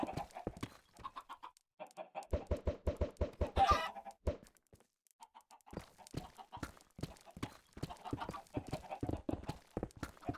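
Chickens in the video game Minecraft cluck in quick, clipped bursts, close and fairly loud, with short pauses between runs of rapid calls and no talk over them.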